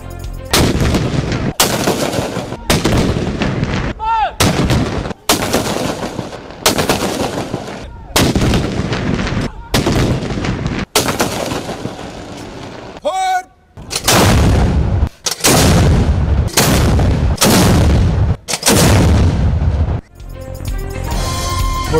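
Aerial gunfire in Karachi: loud, close bursts of shots, more than a dozen in quick succession with brief gaps between them, sharp and booming throughout.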